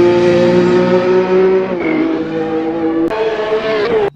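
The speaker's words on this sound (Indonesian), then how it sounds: "Mobil balap F1." An F1 race car engine screams at high revs, loud and close, with a sustained buzzing tone that briefly dips and climbs again over four seconds.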